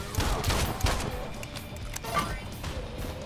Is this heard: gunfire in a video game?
yes